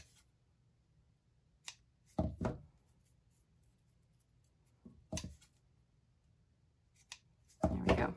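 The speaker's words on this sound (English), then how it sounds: "I can trim off all my threads at the same time" A few sharp scissor snips close by, trimming embroidery threads, in short irregular bursts separated by quiet pauses.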